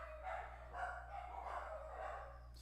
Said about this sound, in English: Excuse me for the dogs.